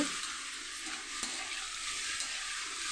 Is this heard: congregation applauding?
no